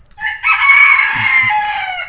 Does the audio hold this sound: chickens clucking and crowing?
yes